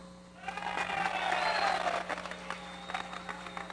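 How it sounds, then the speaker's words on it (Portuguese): Applause from a crowd swells and holds steady, then tapers into scattered claps, with a low steady hum underneath. "Eu queria uma grande salva de palmas"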